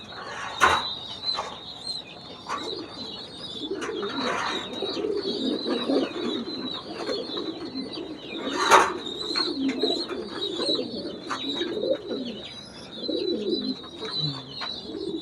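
Fieneke racing pigeons coo continuously in a loft, with layered murmuring calls, occasional wing flutters and clatters, and a steady high background whine.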